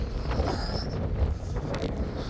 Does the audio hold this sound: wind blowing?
yes